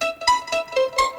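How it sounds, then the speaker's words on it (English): A dry synth pluck with no hybrid reverb plays a short melodic phrase of about five bright, harmonically rich notes in quick succession, each attack sharp and each tail brief and close, alone. "Without the hybrid reverb, it sounds like this."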